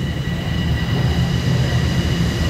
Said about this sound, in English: All right, our train's here